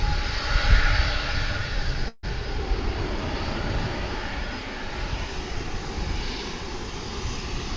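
Airplane jet engines roaring at DFW International Airport, a loud continuous rumble with a brief dropout, then a steady drone throughout.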